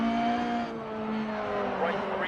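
A Fiat 131 Abarth rally car in the Dirt Rally video game drones at steady revs on a Monaco stage, a thin, strained engine note with faint tire noise, near and continuous.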